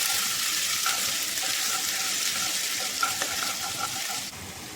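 Ginger sautéing in hot olive oil in a pan, a dense continuous sizzle with light stirring taps, steady and close throughout, no talking.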